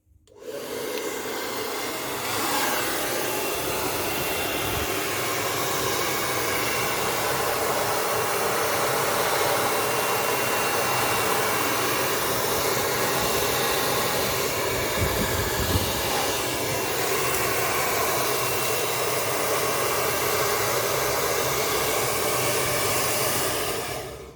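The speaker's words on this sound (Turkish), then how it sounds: "Saç kurutma makinamız hazır." A hair dryer blowing nonstop to defrost a freezer, a loud, steady, close whooshing roar of motor and rushing air that holds constant for over twenty seconds before cutting off.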